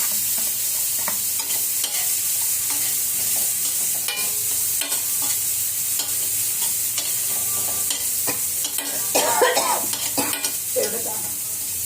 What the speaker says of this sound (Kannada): ಇವಾಗ ಎಣ್ಣೆ ಕಾಯ್ದಿದೆ, ಹಾಕೋಣ ಬರೀ. ಇದನ್ನು ಫ್ರೈ ಮಾಡಿ ಇಟ್ಕೊಳ್ಳೋಣ.